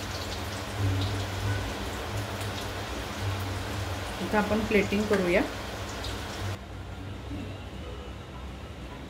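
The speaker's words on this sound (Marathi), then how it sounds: "आज आमच्याकडे दिवसभर पाऊस पडतोय सकाळपासून." Heavy rain falls outside as a dense, steady hiss that continues the whole time, while a person talks briefly in a kitchen where corn fritters are being made.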